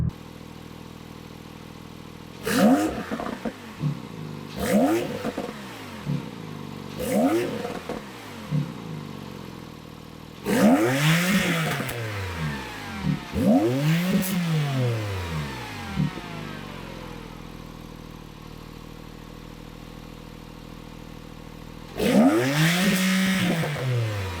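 A 2017 Porsche 911 Carrera S engine revs repeatedly from idle, first in short quick blips, then longer climbing revs that fall back, with a final rev near the end, close and clear.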